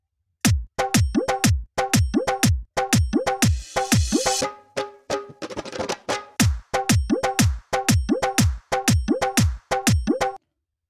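A programmed drum rhythm in dadra taal repeats in a steady, lilting pattern of deep strikes and sharper accents, with a busier fill in the middle.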